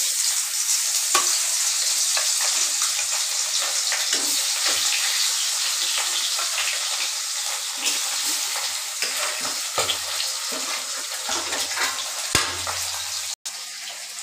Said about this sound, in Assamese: মাছখিনি মই আগতে মাথাখিনি ফ্ৰাই কৰি ল'ম ধুনীয়াকৈ